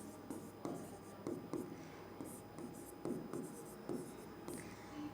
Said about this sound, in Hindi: पहले यहाँ पे मैं लिख रही हूँ फिनोटाइप